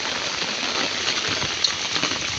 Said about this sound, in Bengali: সকালবেলা থেকে একটানাই বৃষ্টি হচ্ছে, একটা মিনিটের জন্য কিন্তু বৃষ্টি বন্ধ হচ্ছে না